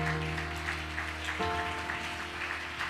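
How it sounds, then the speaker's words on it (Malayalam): A church congregation applauds softly in a steady, rain-like patter of clapping under sustained musical tones. "നല്ല കൈയടി കൊടുത്ത കർത്താവിനെ"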